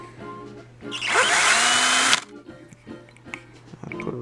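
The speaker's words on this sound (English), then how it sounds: "Drill a hole in the bottom." A power drill whirs loudly for about a second as it bores a hole during a rebuild of a 1958 Admiral tube TV set, surrounded by quieter handling clicks and taps.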